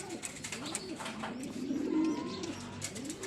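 Racing pigeons back from a training flight coo softly, a low rolling murmur at moderate distance with faint chirps and no voices.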